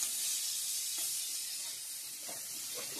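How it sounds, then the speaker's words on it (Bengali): Egg frying in a pan gives a steady, close sizzle with a bright hiss that holds level throughout, with a few faint clinks. "এদিকে ডিমটা ভাজা করা হচ্ছে"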